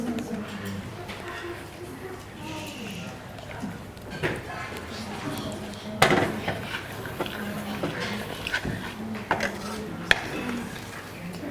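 Carob powder and vanilla essence mixed in a bowl: scattered clinks and scrapes of a utensil against the bowl, with a few sharper knocks, under a person talking throughout.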